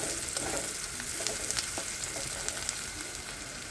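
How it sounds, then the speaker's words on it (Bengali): Long-sliced onion and green chillies fry gently in a pan, a soft, even sizzle with faint crackles, quiet and close, with no one speaking. "এখন পেঁয়াজটাকে ভালো করে ভেজে নেব।"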